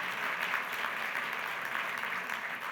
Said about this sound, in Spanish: Lo despedimos con este aplauso.